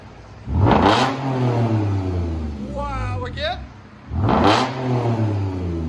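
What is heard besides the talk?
Lexus GS 350 V6 revving, true dual exhaust with Dynomax Race Bullets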